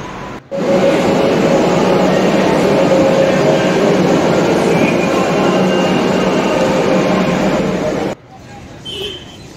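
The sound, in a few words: metro train arriving at station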